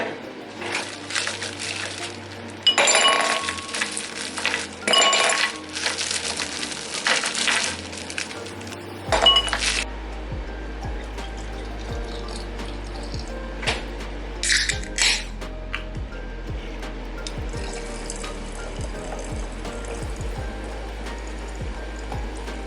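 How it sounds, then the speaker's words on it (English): A drink poured into a glass at home, with splashing, clinking bursts and a steady low hum throughout, fairly close and moderately loud. "I'm about to pour myself a drink."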